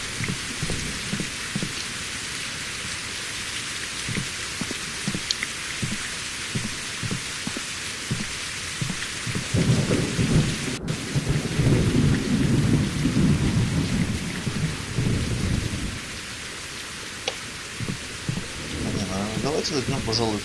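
Steady rain patters and rumbles in a video game world, with a heavy roll of thunder swelling near the middle before easing back into the downpour; no one speaks over it.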